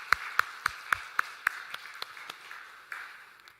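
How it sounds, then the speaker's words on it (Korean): In a Sunday church service in Samcheok, Korea, the congregation claps for the choir: a handful of sharp, evenly spaced claps ring out in a room, then soften and blur into a faint, fading patter. "우리 한번 박수로 격려하도록 하겠습니다"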